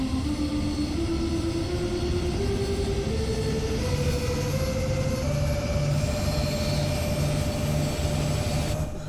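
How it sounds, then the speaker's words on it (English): A train pulls away in the video game Train Sim World 2 with a loud, continuous rumble as its pitch climbs step by step, with no voices. "let's get a lovely shot of the train leaving"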